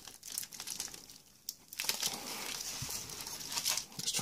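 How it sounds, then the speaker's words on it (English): Plastic seal torn off an anti-static package holding a VCO circuit board for a DIY analog synth, heard as close, crinkly crumpling and ripping that comes in uneven bursts across a few seconds with no talking. "I'm not sure I can break this seal without making it resealable. Let's just take that off."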